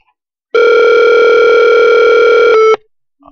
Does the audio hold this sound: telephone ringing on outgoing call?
yes